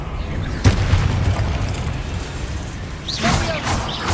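A Confringo blasting spell explodes in a Harry Potter-style video game: a sharp boom at about 0.7 seconds, with a second burst of crackling, popping impacts toward the end, over quiet ambient game sound.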